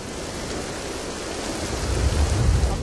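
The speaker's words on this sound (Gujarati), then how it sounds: "અમદાવાદના દ્રશ્યો બતાવી રહ્યા છીએ કે જ્યાં વિધિવત રીતે વરસાદ જે છે તે વરસી રહ્યો છે." Heavy rain pours down over Ahmedabad in a dense, steady hiss that swells slightly louder toward the end, with no voices.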